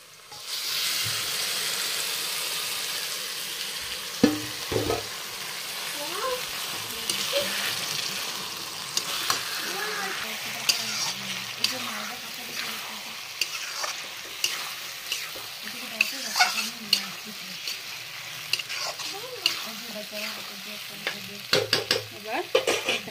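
Chicken frying and stirred in a pan with onions browned red, a continuous sizzle close by with repeated scraping and clinking stir strokes, the spoon taps growing more frequent toward the end.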